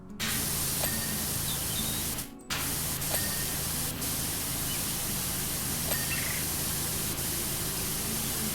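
A pressure washer sprays continuously in the video game PowerWash Simulator while a plane's wing struts and hinges are cleaned, a loud steady hiss that breaks off once for a moment.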